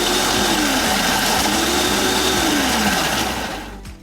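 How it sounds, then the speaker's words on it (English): Food processor pulsing graham crackers into crumbs: a loud, close motor whir with the crackers rattling and grinding inside, pitch rising and falling as it pulses, then spinning down at the end. "If we just want to pulse this, here comes some graham cracker crumbs or graham crumbs."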